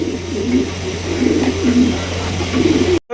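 A Damascene pigeon coos close by in repeated soft, throaty rolling calls, several phrases in a row over a low steady hum, ending abruptly.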